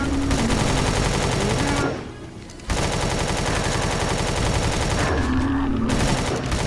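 Sustained automatic gunfire in the sci-fi survival game Empyrion Galactic Survival during an assault on an alien base; loud rapid bursts of shots, a brief lull near the middle, then continuous firing again with no talk over it.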